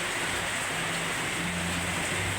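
Heavy rain pours down steadily in Dasmariñas, Cavite, as a dense, unbroken hiss of falling water that fills the whole scene evenly.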